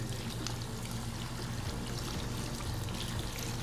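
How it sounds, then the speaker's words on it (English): Tap water pours steadily while hands are rinsed, a close, even, continuous rushing stream with faint splashing and no talk. "Now, proceed to rinse your hands."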